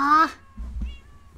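A loud, clear meow from a Minecraft cat up close, followed by a softer, shorter mew over faint low background thumps.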